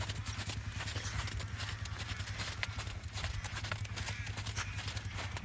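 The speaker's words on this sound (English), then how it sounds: "Wind that trot down." A horse trots in a rhythmic clip-clop of hooves during a dressage lesson, steady and fairly close over a low background hum, with an instructor's voice at times.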